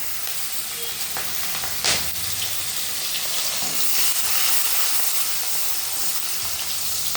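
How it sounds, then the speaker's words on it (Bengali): Chopped onion fries in hot oil with cardamom and cloves, a loud steady sizzle and hiss close by, broken by an occasional stirring scrape and a brief pop. "ফোড়ন দেওয়ার পরে একটু পেঁয়াজ কুচিও দিয়ে দিচ্ছি"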